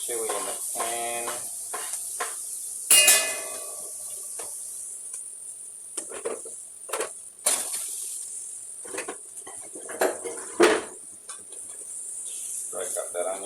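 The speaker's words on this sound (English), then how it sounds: "Whack your onion and your chili in the pan" Onion and chili sizzle in olive oil in a pan with a continuous hissing sizzle, broken by sharper pops and clatters, while a person talks over it.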